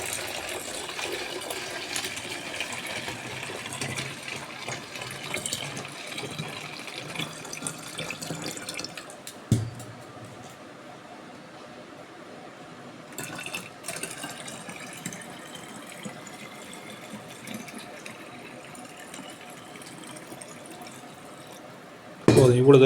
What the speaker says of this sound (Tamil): இப்போ இதில் நிறைய தண்ணி ஊற்றுறோம்.